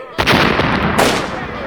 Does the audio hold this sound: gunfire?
yes